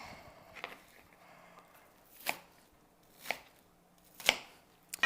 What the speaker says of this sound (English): I just did a quick chop chunk here just to show you about how big my pieces are